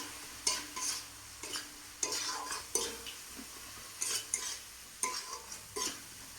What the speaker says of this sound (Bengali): দিয়ে ওটাকে কষতে থাকবো